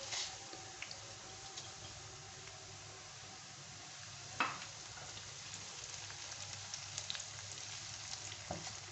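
Cumin seeds, green chili and dried red chili sizzling in hot tempering oil for kadhi pakora, a soft continuous frying hiss with a few faint stirring clinks, fairly quiet.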